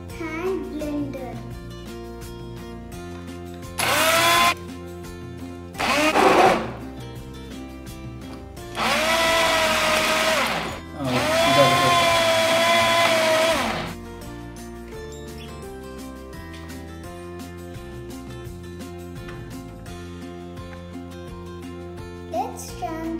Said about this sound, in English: Now I'm gonna blend this with the hand blender.